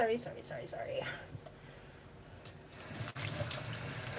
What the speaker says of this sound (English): let me wash up real quick. Actually gonna pull the faucet over here.